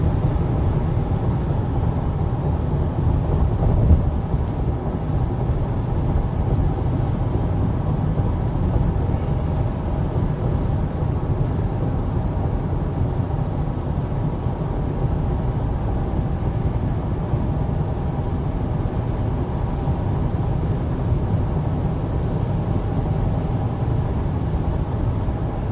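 A Jeep's 2-liter turbocharged four-cylinder engine drones steadily as it accelerates up to freeway speed, heard from inside the cabin as an even, unbroken rumble mixed with road and wind noise.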